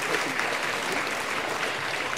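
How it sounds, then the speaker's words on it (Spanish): Wedding guests at a traditional ceremony in San Felipe Orizatlán, Hidalgo, Mexico, clap for the couple in a dense, steady wash of applause from a crowd. "un aplauso para los novios"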